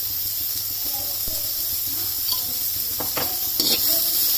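Carrots fry in a pan for vegetable biryani, giving a steady close sizzle and hiss with occasional stirring scrapes and light clinks against the pan.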